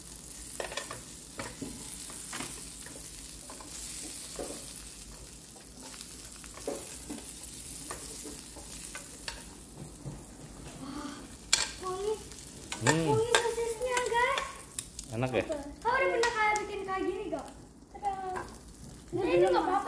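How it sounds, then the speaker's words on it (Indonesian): Sausages sizzle and fry in a pan, a steady crackling hiss with occasional stirring clatter, close by, while people talk over it. "Goreng apa ini? Sosis."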